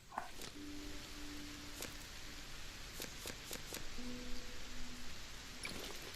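Steady rain falling in a farming video game, a soft even hiss of drops throughout with a few faint clicks and short tones over it, no talking.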